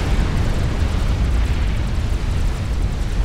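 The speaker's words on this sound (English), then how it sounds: "Both Rhaelya and Julia are taken out in a nuke." A nuke explodes in the strategy game Supreme Commander: Forged Alliance during a 6v6 match, a loud, sustained, low roaring rumble that fills the whole moment without any talk.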